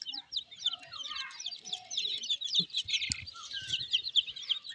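Chickens clucking and calling steadily nearby at a poultry vaccination, with a dense layer of other bird chirps and tweets throughout and no speech.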